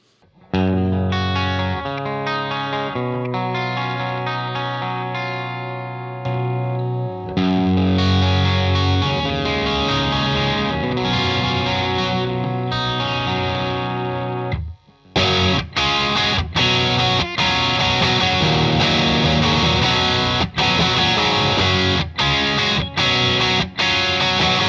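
Electric guitar through a booster pedal pushing a Fender amplifier into light overdrive, sustained chords and melodic phrases with gritty edge, then a louder, denser rhythmic strummed section after a brief pause.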